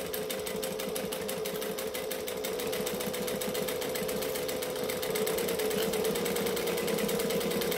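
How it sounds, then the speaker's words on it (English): Sewing machine top stitching along fabric edges, a fast, even, continuous whirring chatter with a steady motor hum, close and uninterrupted, rising slightly in speed near the end. "So now I'm going to top stitch both edges"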